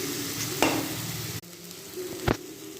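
Tomatoes sautéing with salt in a pan while making a chutney: a steady low sizzle with two short stirring scrapes, close and moderately loud, with no voices.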